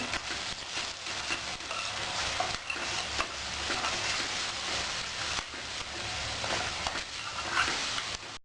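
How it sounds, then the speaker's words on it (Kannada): Steady sizzling of spices including garam masala frying in a pan for soya chunks curry, with scraping stirring strokes throughout and no talking. "ಈ ಮಸಾಲೆ ಎಲ್ಲನೂ ಫ್ರೈ ಮಾಡ್ಕೊಂಬಿಡೋಣ, ಚೆನ್ನಾಗಿ ಮಿಕ್ಸ್ ಮಾಡಿ."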